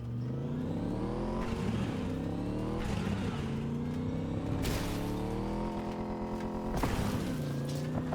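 A car's engine revs up and shifts through gears repeatedly while driving in Cyberpunk 2077, steady and moderately loud with rising and falling pitch.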